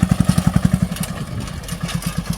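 A Saneda tractor fitted with a double-ridger attachment runs close by, its single-cylinder engine thudding in fast regular beats that soften and loosen midway before picking back up.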